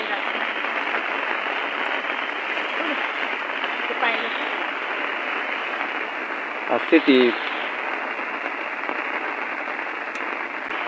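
Heavy monsoon rain pours steadily in the Konkan region, a dense, even hiss that stays constant throughout while someone speaks briefly over it.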